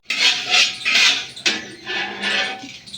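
Cashews roasting in a pan, a stirring clatter and scraping in repeated bursts, close and fairly loud, alone without talk.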